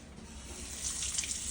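Steady running tap water pours close by to rinse and cool a burn, a continuous hiss that thickens slightly partway through, with no voices.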